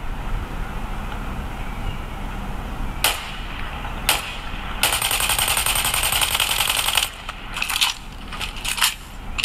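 Video game gunfire leaks from a pair of iSuper full-size noise-cancelling headphones, heard as thin, tinny bursts of rapid shots, including one sustained volley of a couple of seconds, over a low steady background hum.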